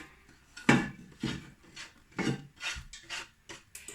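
Chopped onion tips into a pan of cabbage, giving a run of soft scraping, rubbing and light clatter from a utensil against the pan, with a few sharper knocks spaced irregularly, close and fairly quiet.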